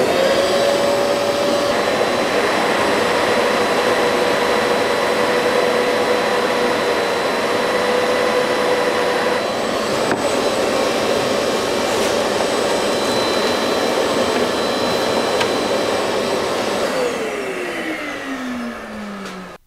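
A dust extractor pulls air through an Oneida Dust Deputy cyclone and Festool hose, a loud steady whooshing roar held for nearly twenty seconds with a faint tonal whine, then winding down at the end.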